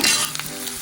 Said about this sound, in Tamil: வெங்காயத்தை போட்டு நல்லா வதங்குற வரையும் கிண்டணும்